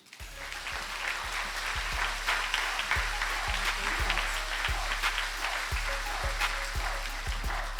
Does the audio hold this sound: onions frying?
no